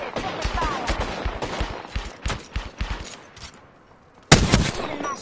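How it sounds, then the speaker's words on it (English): Rapid bursts of gunfire from Apex Legends crackle in close succession, some overlapping like automatic fire, then a brief lull before a loud sudden volley erupts again. "I'm spotted, taking fire. They're shooting at me."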